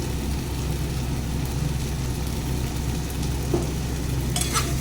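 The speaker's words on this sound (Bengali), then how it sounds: "এবার ভালো করে কষিয়ে নেব।" Chicken kosha sautéing in a pan, with a steady low sizzle and faint stirring scrapes running under a constant background hum, ending in a brief brighter clink near the close; no talking.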